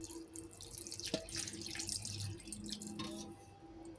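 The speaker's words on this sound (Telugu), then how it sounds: "చూడండి వాటర్ పోసాను కదా ఈ చింతపండులో" Water is poured into a bowl of tamarind, trickling and splashing softly and continuously, close by and fairly quiet.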